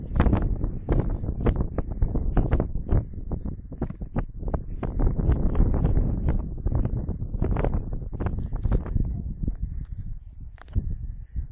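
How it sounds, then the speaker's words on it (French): Strong wind on a mountain ridge during a trek on the Obiou, battering the microphone in loud, irregular gusts and buffeting thumps that come in quick bursts with brief lulls. "il y a quand même beaucoup de vent"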